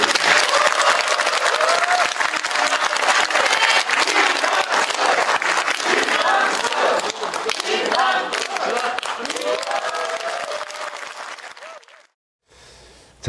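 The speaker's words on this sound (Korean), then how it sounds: "김남준 가는 앞길에 함께 하겠다는 응원하겠다는 박수를 부탁드립니다." Loud, sustained crowd applause at a political book launch event, dense clapping with some cheering that fades out near the end.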